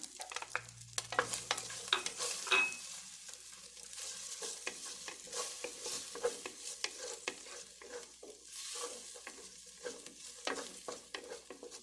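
Onion frying in a little oil in a pan for a Mexican pork and green bean stew, with a steady soft sizzle and frequent scraping stir strokes, close by and with no one talking.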